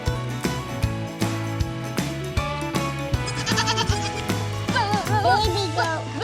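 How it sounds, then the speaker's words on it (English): A baby goat at a ranch with farm animals gives a run of loud, close bleats, some short and some wavering. The calls sound over background music and brief voices. "Baby goat."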